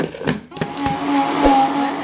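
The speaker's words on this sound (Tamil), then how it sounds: "இப்போ இதை மிக்ஸி ஜார்லேயே சேர்த்து அரைச்சிக்குவோம்." A kitchen mixer-grinder grinds sugar, whirring steadily with a high motor whine, a few knocks and rattles at the start as the jar spins up.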